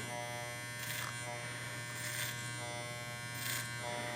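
Electric hair clippers buzz steadily up close during a men's classic clipper-over-comb haircut, with a constant motor hum and three brief louder swells as the blades pass through hair.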